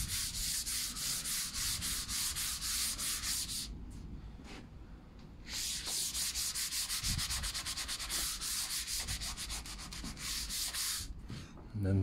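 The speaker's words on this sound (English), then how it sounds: "And the face, I'll just go over, give it a light rub." Hand sanding across the face of a window board sprayed with PU enamel paint, a close, steady rhythmic rasp of back-and-forth strokes with a brief pause partway through.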